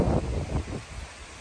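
Gusty wind buffets the microphone in low, rumbling waves on a disc golf course in Minnesota, loud at first and easing off, with no voices.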